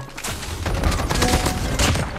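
Rapid bursts of gunfire fill a Call of Duty Mobile battle royale match, dense overlapping shots crackling loud and continuous with no pause.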